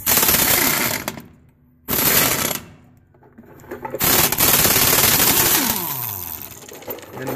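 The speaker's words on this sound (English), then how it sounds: "Now I'll take my impact gun and put on" An impact gun rattles on the wheel studs of an International truck, loud close bursts of rapid hammering separated by brief pauses, the last burst winding down.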